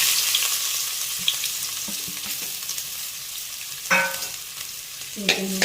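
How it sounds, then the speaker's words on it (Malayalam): Mustard seeds and chopped onion fry in a little hot oil for a cheera cherupayar thoran, giving a steady close sizzle with a few crackling pops and stirring scrapes. "എണ്ണ ചൂടായി അതിലേക്ക് കടുക് ഇടുകയാണ്. കടുക് കൂട്ടി അതിലേക്ക് ഉള്ളി അരിഞ്ഞിടുകയാണ്"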